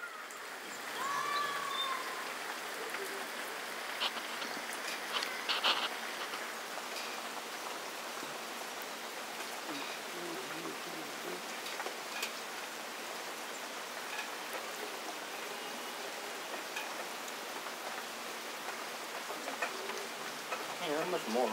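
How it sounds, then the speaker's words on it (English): Steady rain patters throughout in Tennessee at a moderate, even hiss, with a voice speaking briefly near the start and a few faint clicks mixed in. "How much more rain we got?"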